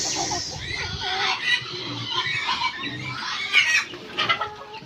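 A flock of Rhode Island chickens clucks and squawks continuously, close and fairly busy, with overlapping calls and occasional louder squeals throughout.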